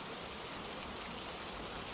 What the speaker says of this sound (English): Rain softens, becomes steady again